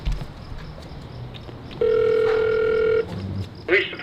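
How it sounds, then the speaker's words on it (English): An intercom buzzer at the 24-hour public entrance of the Beverly Hills Police Department gives one steady electronic tone lasting just over a second, followed by a brief crackle as the line opens. "Intercom."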